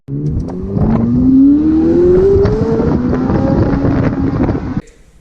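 A McLaren Elva with the Nirvana exhaust system revs up outdoors, a loud, high-pitched engine note rising steadily under wind buffeting, then cutting off abruptly.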